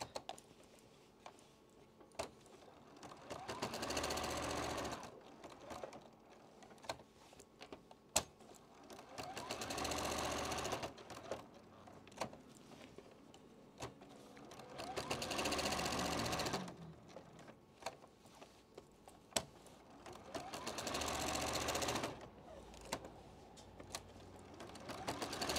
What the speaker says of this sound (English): take it back to your machine and just quilt it like you do